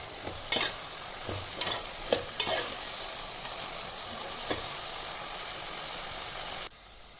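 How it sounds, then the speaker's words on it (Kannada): Beetroot fry is stirred in a hot pan, with a constant sizzle and several sharp spatula scrapes early on, then quieter frying before the sound abruptly cuts off. "ಚೆನ್ನಾಗಿ ಮಿಕ್ಸ್ ಮಾಡಿ 2 ರಿಂದ 3 ನಿಮಿಷ ಪ್ಲೇಟಲ್ಲಿ ಮುಚ್ಚಿಬಿಟ್ಟು ಬೇಯಿಸ್ಕೊಳ್ಬೇಕು."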